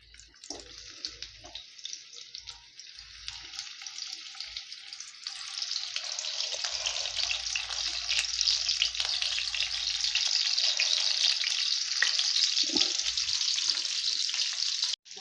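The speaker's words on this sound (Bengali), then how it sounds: "আলুগুলো গরম আমি একটা একটা করে তেলের মধ্যে দিয়ে দেবো" Hot mustard oil sizzles steadily and grows louder as potatoes frying in a pan crackle, with a few faint low knocks early on.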